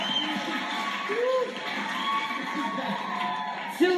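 A television talent show audience in Denmark cheering and whooping after a dance act, a dense, sustained roar of crowd noise with scattered shouts and high-pitched whoops rising above it.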